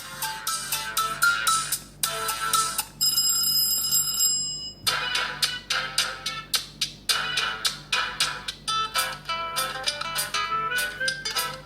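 A ringtone plays loudly through the speaker of a Grand O2 smartphone: a bright electronic melody of quick repeated tones with short pauses between phrases, plus a brief sustained chime partway through.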